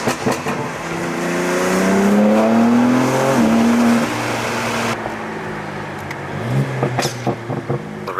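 A tuned BMW G82 M4 with a downpipe accelerates hard on a race track in Mexico, its engine note climbing loudly through the gears with rising harmonics, then crackling exhaust pops and short bursts as it lifts off near the end.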